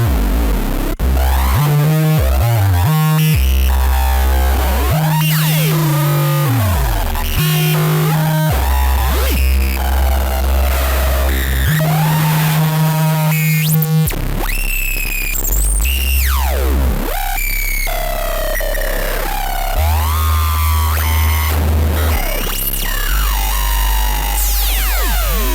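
Heavy bass synth plugin with a logic gate, playing gruesome distorted bass notes in choppy gated bursts with shifting pitches, sweeps and harsh buzzing tones, loud and alone.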